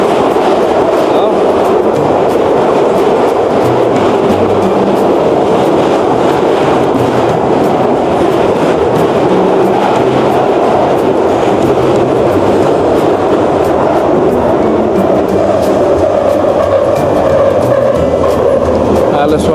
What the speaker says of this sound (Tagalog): Ganyan ang underground train